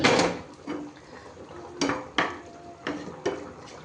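A utensil knocks and scrapes against a pot while stirring a katla fish curry with pui saag, several short clinks at an uneven pace, close and fairly quiet.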